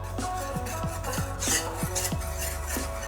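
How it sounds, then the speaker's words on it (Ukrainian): Sugar, vanilla sugar, cornstarch and cocoa are stirred together in a heavy-bottomed saucepan, giving a steady gritty scraping with repeated strokes of the utensil against the metal, close and continuous over a constant low hum, with no voices. "у сотейнику з товстим дном з'єднуємо сухі інгредієнти: цукор і ванільний цукор, кукурудзяний крохмаль, також какао"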